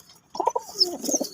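Domestic pigeons, a Rajshahi local giribaz-type pair with tiger-coloured young, coo in a few soft rolling phrases close by, with a brief high chirp mixed in and no talking.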